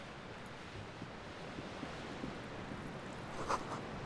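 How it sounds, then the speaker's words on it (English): Waves crash in the darkness in Disco Elysium, a low continuous surf rumble with a breezy wash. The sound is soft and steady, with a small sharper rustle near the end. "Waves crashing in the darkness."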